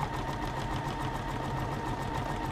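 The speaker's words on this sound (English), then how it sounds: "Now the machine is busy stitching the buttonhole with the fabric clamped inside the foot" A Juki F600 sewing machine stitches a buttonhole with the fabric clamped in the foot, giving a steady, continuous mechanical whir and rapid needle chatter at close range, with no voices.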